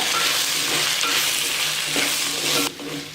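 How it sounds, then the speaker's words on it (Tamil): Drumstick pieces coated in sambar powder and salt are stirred in a hot pan, a loud close sizzle with rhythmic scraping strokes that drops off abruptly near the end. "சாம்பார் பொடி எல்லாம் போட்டு நல்லா கலந்து விட்டுடுங்க"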